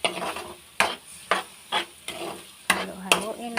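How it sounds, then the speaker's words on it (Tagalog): Spatula scraping and stirring bitter gourd with egg in a sizzling pan, a steady series of close scrapes about every half second over a soft fry. "Halo-haloin lang natin guys."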